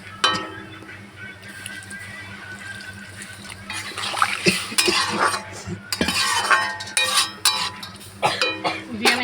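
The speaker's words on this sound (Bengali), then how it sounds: "এবার আমি জলটা দিয়ে দিলাম।" Water pours into a pan of small-cut potatoes for alu posto, with clinking of a pot and utensils, a steady watery rush building louder midway and continuing with intermittent splashes and clanks.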